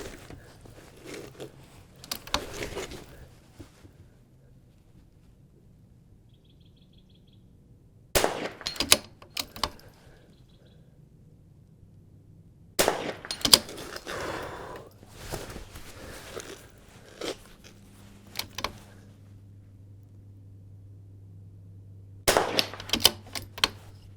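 Several sharp rifle shots ring out in separated bursts during an NRL22 match course of fire at an outdoor range, each report loud and brief, with quiet gaps and faint handling noise between them.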